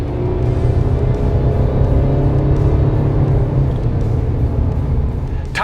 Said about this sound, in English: this V6 doesn't have a ton of power, but there is enough to work with, and it's got a pretty good soundtrack as well